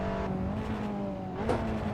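Abarth 500 Assetto Corsa version engine in a racing simulator, a small car revving steadily with a brief rising shift around mid-clip, continuous and moderately loud with no talk.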